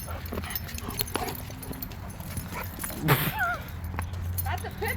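Pit bull at a dog park, with brief yips and whimpering dog sounds amid outdoor activity while people talk nearby.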